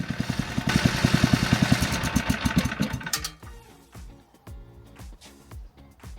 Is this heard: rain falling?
no